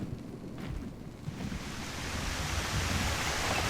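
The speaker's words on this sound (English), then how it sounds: "the water is not so loud, but when it gets on YouTube, it's incredibly loud" Continuous rushing water from the game Ark Survival Ascended, a steady broadband wash of waves or surf that grows slightly louder toward the end, with no talking over it.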